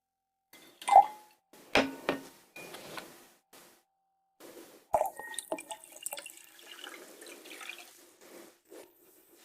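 Water poured into measuring cups in short splashy bursts and drips, with clinks of handling between them, recorded close and fairly quiet, and no voices.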